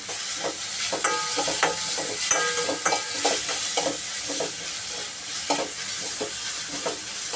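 Crushed garlic, green chili and ginger are stirred in a hot pan, a dense close sizzle with busy clinking and scraping of the spoon against metal throughout, no speech.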